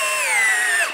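A Bosch drill driver whines at high speed as it drives a 3-inch screw, its pitch sagging under load before the motor cuts off after about a second.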